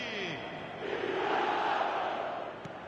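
Stadium crowd in the eFootball 2026 video game roars after an Inter goal, a broad, sustained swell of cheering that rises and holds loud for several seconds.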